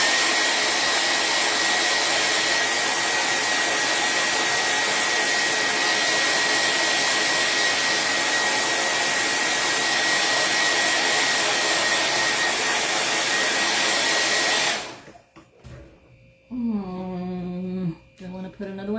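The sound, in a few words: hair dryer drying craft paint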